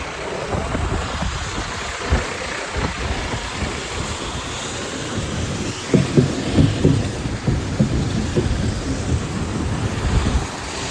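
Strong wind buffets the microphone in loud, rumbling gusts, growing rougher and more forceful toward the middle before easing slightly.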